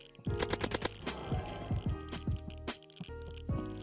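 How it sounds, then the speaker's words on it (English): Minigun fire in the Roblox survival game Death Zone, with loud rapid bursts of shots, one fast volley and then scattered repeated bursts close up, with faint talk underneath. "Fucking minigun?"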